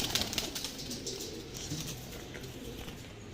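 A Panjabi breed pigeon being released: soft cooing and brief wing flutters, faint and close, with a light patter in the background.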